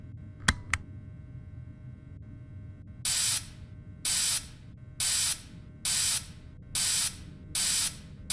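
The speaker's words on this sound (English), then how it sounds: "So go ahead and start spraying the suit" Spraying of an animatronic suit in the video game Fredbear and Friends: two sharp clicks, then six even, evenly spaced hissing spray bursts, loud and close, with quiet gaps between them.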